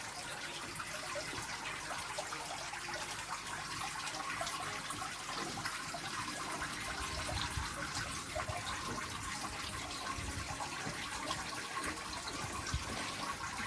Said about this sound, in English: Well, just doing a water change.